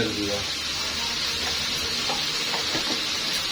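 Ground turmeric, chili, cumin and coriander spices fry in a pan for chicken chaap, a soft continuous sizzle with occasional light stirring scrapes at moderate distance.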